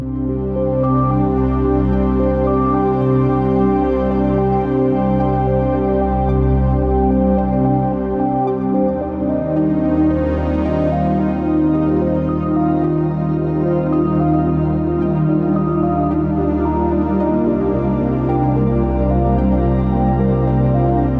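A synth patch on the Parawave Rapid wavetable synth plays a sustained, dense layered chord with a steady deep low end, shifting harmonies at two points, and a constant full level with no talk.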